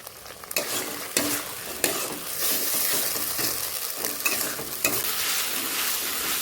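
Onion, turmeric and masala sautéing for a chicken gizzard curry, a steady loud sizzle with repeated scraping stirs of a spatula against the pan, no voices.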